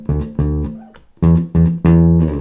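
Bass guitar playing short punchy stabs in the bridge of a song, loud close notes in two groups separated by a brief pause, with no talking.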